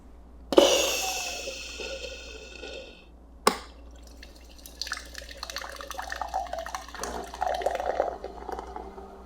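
A Ninja Thirsti drink maker dispenses a fizzy drink: a sharp start click, then a steady hissing pour with dripping and bubbling that turns busier and more gurgly toward the end, close and moderately loud.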